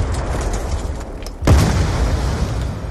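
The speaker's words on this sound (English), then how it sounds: "Grenade!" A single grenade explosion in the shooter game Black Ops 2, a sudden loud boom midway that cuts through a busy, steady battle background.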